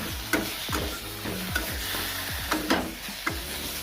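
Fish sizzles while frying in hot oil with salt and turmeric over a low flame, and a spatula scrapes the pan in a loose, repeated stirring rhythm. The sound is close and steady, with no voices.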